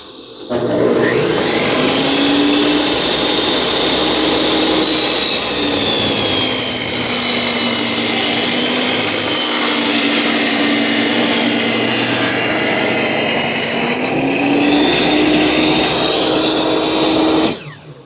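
Loud, steady whine of a power tool cutting wood panels for a 12-inch subwoofer box, running continuously for about sixteen seconds close by, with shifting pitch as the blade works through the board.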